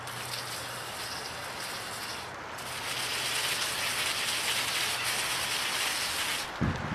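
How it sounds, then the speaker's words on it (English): A garden hose nozzle on an angled spray setting blasts water into the derailleurs of a mountain bike, making a steady broadband hiss that grows louder and denser midway and breaks off briefly near the end, with no talking. "I'm going to use this angle setting on this nozzle and kind of get in the derailleurs."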